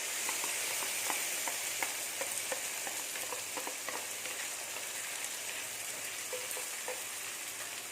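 Onion and tomato paste frying in a pan for an eggplant and chickpea kuzhambu, a soft continuous sizzle broken by small crackles and pops, with the occasional scrape of stirring.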